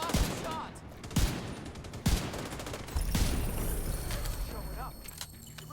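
Gunfire in the video game The Division 2, several close sharp shots and short bursts over a busy background of combat noise, with game voices speaking in between.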